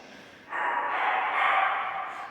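A dog near a cathedral entrance snorts and breathes heavily, a close, breathy huffing that swells after a quiet moment and holds steady for about two seconds.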